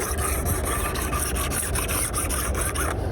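Grip tape is rubbed firmly back and forth in quick, even strokes, a close, dry rasping sound repeated steadily about a dozen times.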